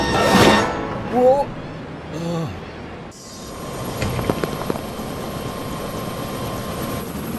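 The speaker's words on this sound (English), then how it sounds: "So it looks like I know how to fly a helicopter then." A helicopter in a Lego City police movie, a steady loud rotor and engine drone filling the second half after brief voiced exclamations and a whooshing start.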